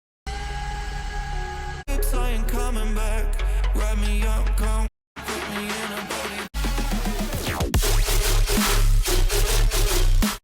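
A remix of a track playing as dense electronic music, loud and full, with beats and layered synths across several sections broken by brief silent gaps.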